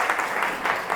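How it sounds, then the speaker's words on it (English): A classroom of students claps together for a classmate, giving brief, fairly loud rippling applause with no speech. "Give a big round of applause to Madinatul."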